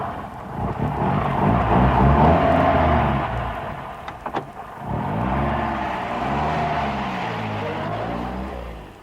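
A car engine rumbles and revs as an audiobook sound effect, swelling loudly at first, dipping briefly amid a few sharp clicks, then resuming as a steady throaty idle with a voice faintly present.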